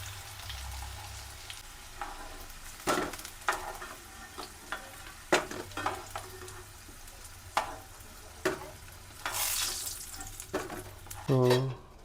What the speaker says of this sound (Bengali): আলু আমার লাল লাল করে ভাজা হয়ে গেছে